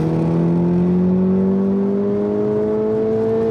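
Volkswagen T-Roc R engine held above 4,000 RPM, a steady loud hum whose pitch climbs slowly, heard from inside the car with no talking.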